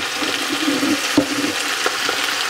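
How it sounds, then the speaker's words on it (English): Steady frying sizzle of cabbage in grease with a soft crackle and an occasional stir or scrape, close by and fairly loud. "We're frying it down,"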